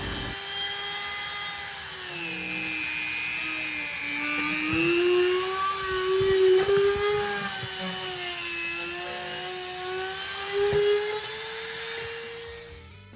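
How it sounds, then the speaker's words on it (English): Dremel rotary tool enlarging screw holes in a Dollar Tree craft piece, a high, steady whine that wavers slightly in pitch and carries on alone for several seconds. "I use my Dremel to enlarge one screw hole on each side"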